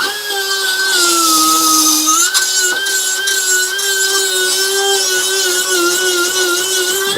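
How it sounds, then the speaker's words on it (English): A die grinder fitted with a tungsten bit grinds rusty metal on a car body repair, a loud continuous high-pitched whine close by that holds steady with a slight dip in pitch partway through, no talking. "The die grinder is my friend."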